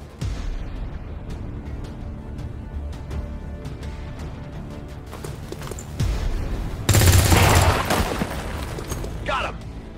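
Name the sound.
gunfire from video game XCOM 2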